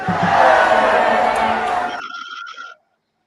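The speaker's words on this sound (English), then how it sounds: "Liberians are clapping, Jerry." A crowd of Liberians cheers and shouts loudly together, a dense roar that drops away after about two seconds, leaving a few voices before it ends in silence.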